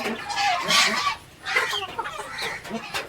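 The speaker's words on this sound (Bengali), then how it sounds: "এই যে সেই মুরগিগুলো আনা হচ্ছে" Chickens on a local farm in the Kalaichar area cluck busily in a close, overlapping flurry of calls, with short pauses between bursts and no talk.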